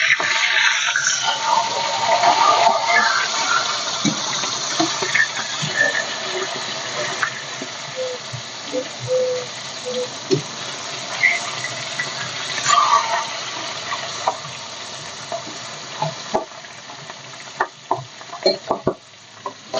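Pieces of pangas fish sizzle steadily in hot oil in a pan, a continuous close frying hiss with occasional spatters and utensil taps, fading toward the end with scattered clicks.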